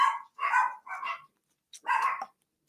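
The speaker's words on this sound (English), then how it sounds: "My dogs are barking." Dogs bark in short bursts, about four sharp, fairly close barks with brief pauses between, and no talking.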